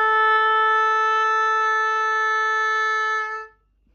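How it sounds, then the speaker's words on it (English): An oboe sounds a single sustained concert A tuning note, steady and reedy for about three and a half seconds before cutting off into silence, close and alone. "you'll hear the oboe play a concert A"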